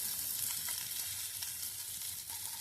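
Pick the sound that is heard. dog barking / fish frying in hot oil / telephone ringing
fish frying in hot oil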